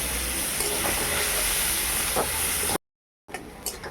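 Chopped onion frying in leftover fish-frying oil tempered with cardamom, cinnamon and cloves gives a steady, loud, close hiss that cuts out briefly, then returns as a quieter sizzle.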